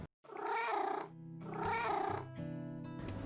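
A cat lets out two long, drawn-out meows close by, followed by a lower, wavering cry that trails off, with no other voices.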